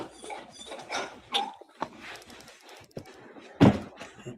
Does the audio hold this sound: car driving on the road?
no